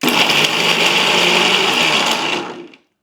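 A mixer grinder grinding tamarind whirs loudly and steadily for a couple of seconds, then winds down and stops; no voices.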